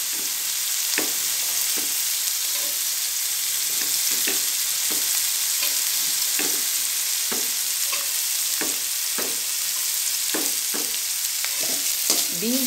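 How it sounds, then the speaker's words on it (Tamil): Beans frying in a pan for rava kichadi give a constant loud sizzle, with regular spatula stirs and scrapes tapping through it at a steady pace, close and with no talk. "அடுத்தது நம்ம பீன்ஸ் போடலாங்க."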